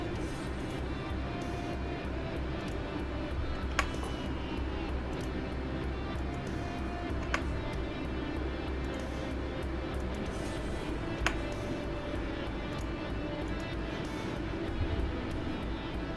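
Hornet fighter jet engine in a flight game, a steady dense roaring drone that stays constant throughout, with a few faint clicks and a voice speaking underneath.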